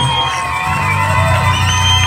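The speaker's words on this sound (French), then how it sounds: "j'aimerais entendre des acclamations assaisonnées de cris de joie" A church crowd cheers, whoops and shouts for joy in a loud, continuous roar of many voices filling the hall.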